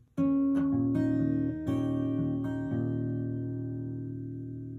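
A guitar is fingerpicked slowly, single notes plucked one after another and left ringing together, then fading out.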